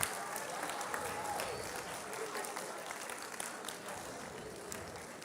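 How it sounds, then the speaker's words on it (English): A group of 8th grade students at a celebration give a round of applause, steady, fairly faint clapping heard from a distance that continues evenly throughout, with some crowd murmur underneath. "So let's just give ourselves a round of applause for getting to this point."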